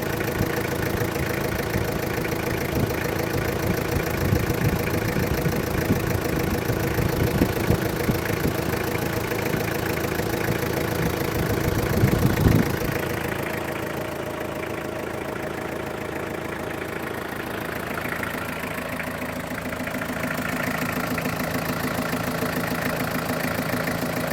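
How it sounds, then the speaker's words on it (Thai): Toyota Hilux Sport Rider 3.0 manual 4WD SR5 pickup engine idling steadily up close, a continuous rough diesel-like drone with a brief louder rev around twelve seconds before settling to a slightly quieter idle, no talking. "เสียงเครื่องเป็นประมาณนี้เปิดให้ดูนะครับ"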